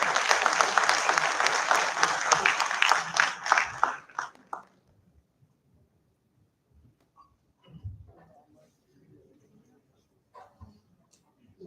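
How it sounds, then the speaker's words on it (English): Audience applause at a 16th Foundation Day gathering at IMI Bhubaneswar, dense and loud for about four seconds before fading out, followed by quiet room sounds and scattered faint noises. "Can we welcome him with a huge round of applause?"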